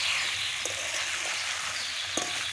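Potatoes fry in a hot pan with salt, giving a steady, close, dense sizzle that holds throughout, with two brief clicks of a utensil against the pan.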